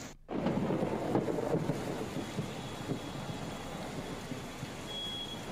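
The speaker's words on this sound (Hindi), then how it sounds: "और क्या बढ़िया बारिश हो रही है।" Heavy monsoon rain in Lucknow pours as a dense, steady hiss and rumble after an abrupt start, with a low distant thunder-like roll and faint traffic in the background.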